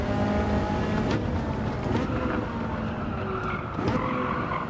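Ferrari F40, F50 or GTO in Gran Turismo 7 with tyres squealing under hard cornering, a steady loud engine drone with a thin high whine running through the whole stretch, no voices.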